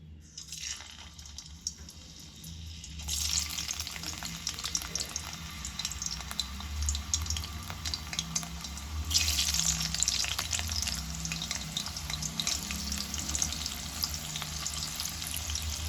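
Potatoes drop into hot oil in a kadhai and fry with a loud, continuous sizzle that swells after a few seconds and stays dense and bubbling throughout, with no talking.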